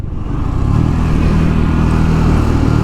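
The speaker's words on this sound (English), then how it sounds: "the one thing that really stands out in this bike is the little engine it's got. It's got a single cylinder 400cc" Triumph Scrambler 2024 400X single-cylinder 400cc motorcycle engine, loud and close, a steady droning thrum that builds slightly while riding, with no talk.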